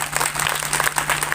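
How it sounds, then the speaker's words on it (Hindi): Audience applause rising for the crowd at a Hindi talk on the life of Dr. B. R. Ambedkar, a brief dense burst of many hands clapping close and steady. "ताली बनती है आप सबके नाम से"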